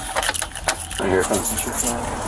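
Keys jangle close by in a brief metallic rattle and clink, with people talking over them.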